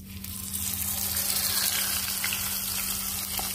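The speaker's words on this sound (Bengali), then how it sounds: "আমার তেলটা গরম হয়ে গেছে। দেখেন এখন আমি আগে বড় মাছটা দিয়ে দিব।" A large Arabian Sea fish drops into hot oil and fries with a loud, continuous hissing sizzle that stays close and even throughout, accompanied by a low steady hum.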